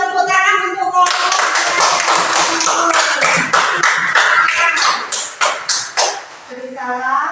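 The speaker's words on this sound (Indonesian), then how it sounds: "Oke, beri tepuk tangan untuk kelompok." A classroom crowd of students claps for a student group, a dense, steady burst of hand-slapping applause lasting several seconds and tapering into scattered claps, with children's voices at the start and end.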